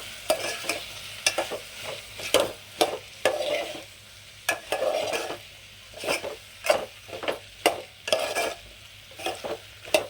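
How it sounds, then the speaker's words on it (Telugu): Okra pieces being stirred into a cucumber curry in a pan, a spoon scraping and knocking in a steady repeated rhythm over a soft sizzle, close and fairly loud with no talking. "వీటిని ఒకసారి మిక్స్ చేద్దాం, అంటే ఇలా తిరిగిద్దాం."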